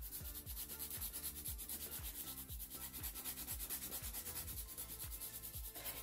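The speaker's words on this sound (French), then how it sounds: "Donc je suis toujours en train de limer" A fingernail being filed with a nail file, a fast, regular back-and-forth rasping of even strokes that continues steadily and close up with no talk.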